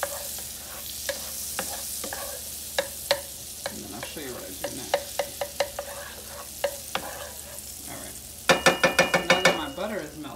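Ingredients melt down in a pan under a soft steady sizzle while a utensil stirs and scrapes, with sharp clicks and knocks against the pan scattered throughout and a quick run of taps near the end.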